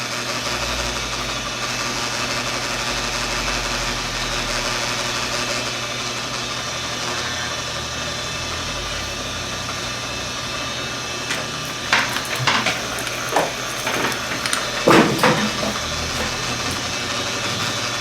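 A copper Romex wire stripping machine runs with a steady, droning motor hum throughout, and a few short, sharp clacks and rattles come near the end.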